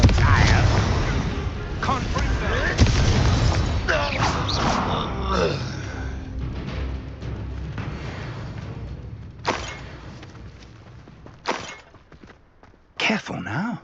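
Confringo blasting spells go off in Hogwarts Legacy as a burst of booming, crackling impacts, then a few scattered sharp thumps and blasts over the following seconds, mixed with game voices speaking.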